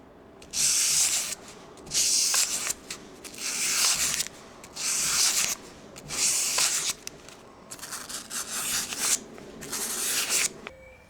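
A 5160 steel knife blade is hand-sanded with 320 grit sandpaper in long, rhythmic rasping strokes, about eight bursts with brief pauses, close and clear.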